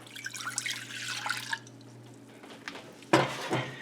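White vinegar is poured into a measuring vessel in a kitchen while making piccalilli relish, a short liquid trickle and drips, then quiet, ending with a sharp splash or clink.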